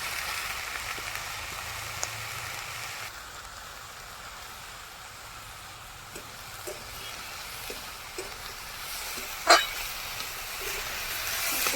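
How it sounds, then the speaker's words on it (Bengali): Small fish and drumstick flowers with salt fry gently in a pan, giving a steady soft sizzle with scattered pops and one sharper crackle, fairly faint and with no voices. "ভালো করে ভেজে নেবো হালকা করে"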